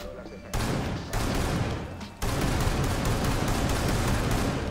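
Rainbow Six Siege gunfire pours out as a dense, continuous burst of rapid shots, loud and close, with sudden jumps in intensity and no voices over it.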